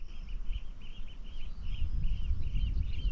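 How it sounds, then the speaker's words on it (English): Birdsong outdoors in wild countryside, a repeated high chirping phrase carrying steadily over low rumbling wind noise, moderately distant and continuous throughout. "Just birds singing."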